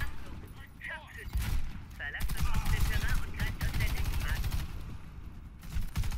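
Gunfire in the video game Warface, rapid bursts of automatic shots crackling over several seconds, loud and close, with voices talking over the shooting at points.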